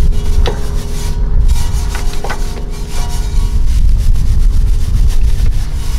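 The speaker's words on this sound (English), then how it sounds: "Go ahead and get the barrels of the wheels. This is my easy detail, my large easy detail brush." A large detail brush scrubs the inner barrels of a car wheel with a pre-soaked wheel and tire cleaner, giving a continuous close, loud, wet rubbing and scraping with no voices.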